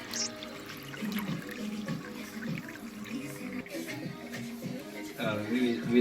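Water pours steadily from the outlet of an EHEIM classic 250 aquarium canister pump, running through hoses and spilling over decorative waterfalls. It makes a continuous close splashing and trickling wash with no pauses.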